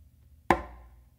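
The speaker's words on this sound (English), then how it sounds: "After doing that close slap with my dominant hand on the conga" A single sharp, close slap struck by the dominant hand on a conga drum, a crisp cracking hit that decays quickly over a quiet background.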